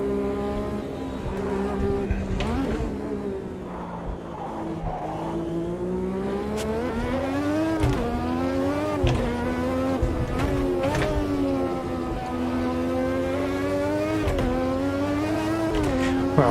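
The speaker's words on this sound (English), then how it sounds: "This is to see us lose control of a rather powerful Lotus 98T" Lotus 98T race car in the Automobilista 2 racing game, its engine note steady and loud throughout with rising and falling pitch as it revs through gears, with occasional faint tire squeal.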